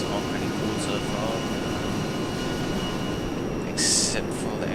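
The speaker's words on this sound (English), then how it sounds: "the actual sound of the jet. It's a real buzzy sound and it gets quite irritating." An A-10C attack jet in the ArmA 3 video game gives off a steady, buzzy engine drone at constant loudness, with a short brighter swell near the end.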